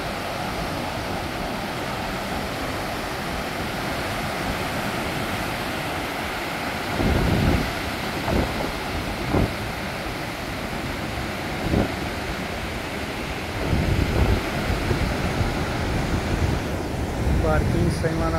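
Surf at Tramandaí beach in Brazil, a steady wash of breaking sea waves with wind buffeting the microphone and a few louder gusts, heard close and continuous.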